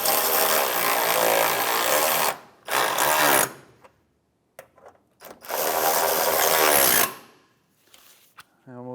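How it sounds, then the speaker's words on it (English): A power tool drives two 10mm bolts into the starter on a 2011-2016 Hyundai Elantra. It sounds as three loud, close whirring bursts of a couple of seconds each, separated by quiet gaps with faint clicks. "put our two 10mm bolts in. We'll tighten these down"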